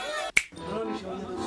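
A single sharp, close finger snap cracks out near the start, followed by a shift into a new ambient soundscape with faint voices in the background.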